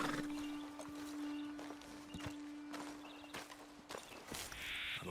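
Horses walk on a dirt road in Red Dead Redemption 2, their hooves clopping softly in an uneven rhythm over a steady game ambience.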